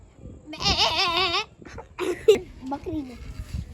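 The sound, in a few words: person imitating a goat bleat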